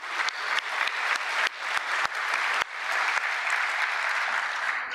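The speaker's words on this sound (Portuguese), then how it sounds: "Acho que merece uma salva de palmas também." Applause for the longest-serving secretary at a negotiation table fills a hall at a Brazilian federal government ceremony, dense and sustained, with a few sharp individual claps standing out near the front.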